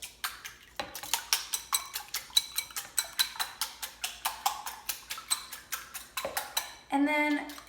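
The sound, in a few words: beating three eggs in a bowl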